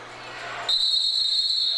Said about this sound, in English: And we get a whistle before.